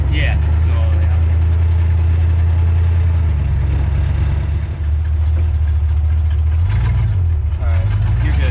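A 1947 Ford Coupe on its first real test drive, its engine a loud steady low rumble close by that swells briefly near the end as the revs rise.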